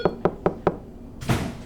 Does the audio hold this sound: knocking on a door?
yes